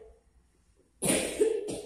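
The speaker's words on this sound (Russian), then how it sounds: "О, кашлюлька." After a quiet moment, a single close cough bursts out, harsh and breathy, followed by a shorter second one.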